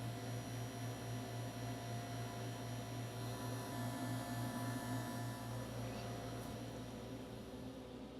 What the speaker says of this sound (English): before the machine will deliver refrigerant to the vehicle, it is going to perform a vacuum check and a vacuum hold